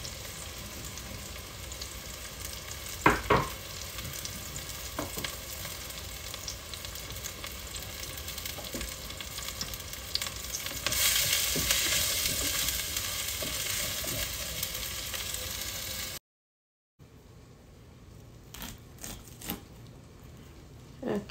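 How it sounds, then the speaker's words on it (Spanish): Onion and chile sizzle steadily in a pan with a few sharp crackles and pops, the frying growing louder partway through, then a brief silence before a quieter stretch of sizzling. "Y aquí voy a estar pasando a dorar nuestra cebolla y nuestro chile"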